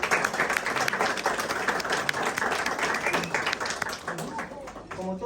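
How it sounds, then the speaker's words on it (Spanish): Audience at an evening panel discussion giving applause, a steady moderately faint patter of clapping across the whole stretch, with voices audible underneath. "vamos a darle un fuerte aplauso a Vianey, a Mauricio,"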